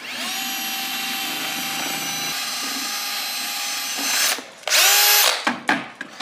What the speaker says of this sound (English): I'm using a drill to mix it